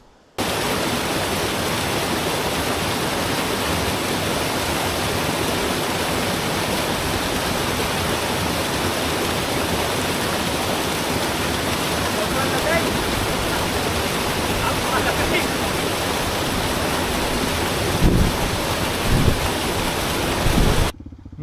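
Natural spring water flowing outdoors along a motorcycle route in Palanan, Isabela, a loud, steady, close rushing wash that stays constant throughout, with a few brief bumps near the end.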